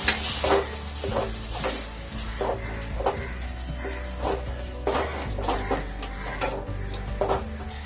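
A spoon works through salted star fruit chutney in a pan, sending out a steady run of soft scraping, clinking strokes at a moderate pace over a low background hum, with no talking.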